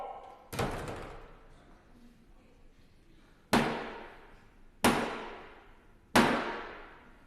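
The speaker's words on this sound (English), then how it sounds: "Close the door!" Heavy parliament chamber door slammed shut in the House of Commons as Black Rod arrives, four loud booming knocks with echoing decay, the first alone and the last three in a steady spaced rhythm.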